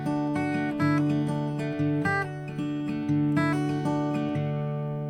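A guitar picks out a chord note by note in a steady, repeating pattern, clear and close, with bright plucked attacks ringing over one another.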